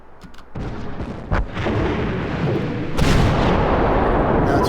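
Heavy naval guns of the St. Louis cruiser boom in World of Warships, a dense rumbling barrage with a sharper blast partway through, loud and continuous.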